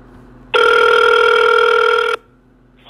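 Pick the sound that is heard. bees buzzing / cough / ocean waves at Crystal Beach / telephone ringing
telephone ringing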